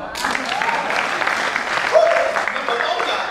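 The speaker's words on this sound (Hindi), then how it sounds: "ताली बजाओ।" A live audience breaks into sustained, loud applause at a Rajasthani Hindi poetry recital (kavi sammelan), with steady clapping throughout and voices mixed in.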